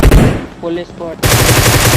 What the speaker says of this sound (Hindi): अब यहाँ पे मैं 3 बंदों को ग्रोजा से नॉक कर देता हूँ